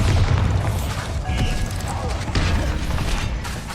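Bombarda explosion spells go off in Hogwarts Legacy amid dense game combat, with heavy booming blasts and mechanical clatter layered over a constant loud roar.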